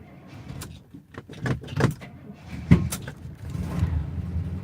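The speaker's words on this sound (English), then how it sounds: "Backfire. That was a first." A 1971 Cutlass engine on its first start after a carburetor rebuild, hood up, sputters with a run of sharp pops and one louder bang amid uneven rumbling and cranking.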